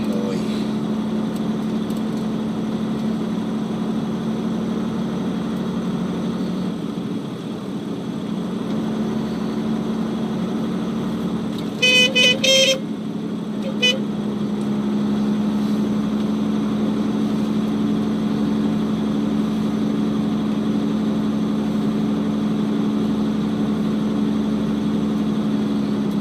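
A loaded Volvo F12 truck engine drones low and steady from inside the cab, with a short burst of electronic beeping about halfway through.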